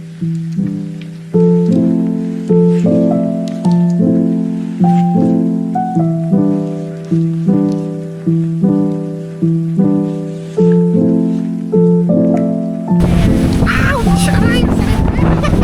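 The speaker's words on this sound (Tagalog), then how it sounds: "Sobrang lakas po ng hangin, guys." Strong wind on a Boracay Island beach roars and buffets the microphone in a loud, sudden burst during the final few seconds, following a long stretch of steady, rhythmic music.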